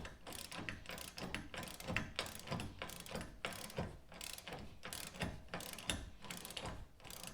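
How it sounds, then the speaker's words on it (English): Ratchet and 9/16 wrench snugging mounting bolts for a Daystar bull bar on a Jeep Renegade, a steady run of close, loud rapid clicking strokes repeating throughout with no talk. "you just get your 9/16 wrench and ratchet. And once again, I'll just snug all of these."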